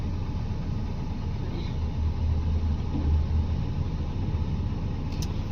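A truck engine runs steadily with a constant low rumble at a fairly loud, even level. Nobody speaks.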